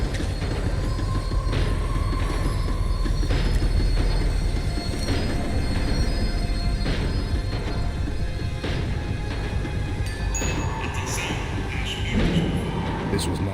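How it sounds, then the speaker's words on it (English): A tram rolls along rails in the Max Payne 3 video game, steady rumbling with wheel squeals and clanks, while a voice narrates over it throughout. "The tram was slowing down, and I'd only just gotten on board."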